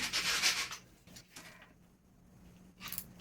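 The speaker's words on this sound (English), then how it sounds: "I'm just going to rub that in there" Bright blue acrylic paint is rubbed onto a stamp for an abstract painting, making a close, dry scrubbing sound in short bursts with a quiet pause between them.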